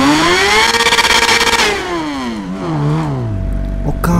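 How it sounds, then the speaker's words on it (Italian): Motorcycle engine revving hard in GTA 5, loud and close, with rising and falling pitch sweeps as it accelerates and shifts, then dropping to a lower drone with a rumbling low end near the end. "è una scheggia sta moto"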